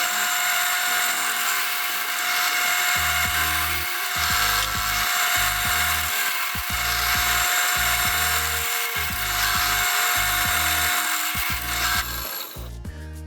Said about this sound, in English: I've set the drill press up to drill to 3/4 inch depth in each of the arms